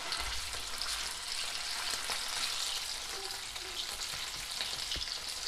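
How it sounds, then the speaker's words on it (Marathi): Chopped onions fry in hot oil for a Maharashtrian black mutton curry, making a steady, close, bright sizzle with a few faint stirring clinks. "तर आता आपले कांदे एकदम व्यवस्थित भाजले गेले आहे"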